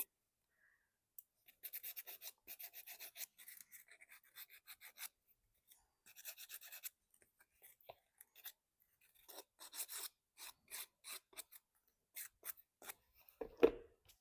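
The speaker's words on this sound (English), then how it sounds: "I can kind of get the areas that I want to get since it just sands and distresses so easily." Sandpaper rubs and scrapes across a thrift store item being distressed, coming in close, repeated bursts of rasping strokes separated by short pauses, with no talking.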